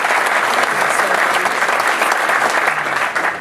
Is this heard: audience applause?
yes